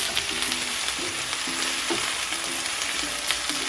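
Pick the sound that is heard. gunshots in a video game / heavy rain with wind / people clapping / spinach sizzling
spinach sizzling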